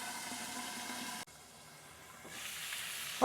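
A wok or pan of kimchi black bean prawns hisses steadily with steam as water is added. The broad sizzle drops away abruptly partway through, then swells again toward a louder finish.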